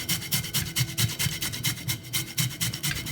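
Lime rind rubs against a hand grater for a Jamaican Christmas cake, a steady back-and-forth rasping strokes at an even rhythm, close and fairly loud, with no talking.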